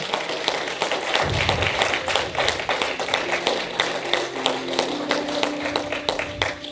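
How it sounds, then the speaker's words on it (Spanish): Church congregation clapping along in a steady rhythmic beat, many hands together, loud and sustained with music or singing underneath. "Un aplauso al Señor,"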